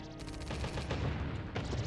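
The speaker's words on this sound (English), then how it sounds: "you can actually shoot them from afar with gunshot" Gunfire from the video game Brave Fencer Musashi: a dense burst of rapid shots and crackling impacts over game sound, continuous and fairly loud for about two seconds.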